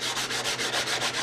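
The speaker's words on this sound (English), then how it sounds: "I'm going to do that with some 400 grit sandpaper" A guitar body from a rockabilly kit build is sanded by hand with 400 grit sandpaper, giving close, even rubbing strokes in a steady back-and-forth rhythm of about seven passes, loud and alone.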